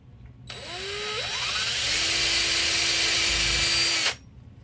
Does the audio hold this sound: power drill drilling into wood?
yes